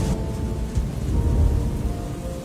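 Steady rain pouring through the night with low rolling thunder rumbling underneath, a dense wash of drops with no voices.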